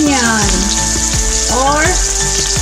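Onion sizzles loudly in hot oil in a pan for a mixed seafood curry, a steady close frying hiss with a few stirring clinks and no speech.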